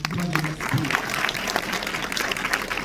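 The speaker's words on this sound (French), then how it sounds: "Pendant que nous descendons, acclamez-nous encore." A church congregation applauds the choir of a Haitian church at a service honoring retired pastors, a steady dense clapping that carries through the whole span with voices mixed in underneath.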